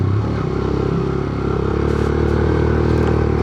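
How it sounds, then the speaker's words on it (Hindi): A motorcycle climbs a hill in second gear, its engine droning steadily and loudly with a rough, pulsing note and some rattle throughout, no voices. "अब रेस्ट के बाद बाइक भी 2 गियर पे बड़ी मज़े से ऊपर जा रही है"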